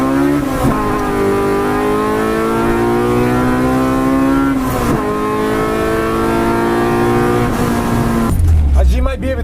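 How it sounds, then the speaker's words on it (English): A K20-swapped Honda EK Civic race car engine drones at steady high revs inside the cabin, its tone holding with brief dips as the throttle changes, loud and continuous to the end. "I was revving up to about 8 grand"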